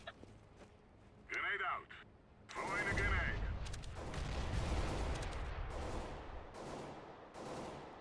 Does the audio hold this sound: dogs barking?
no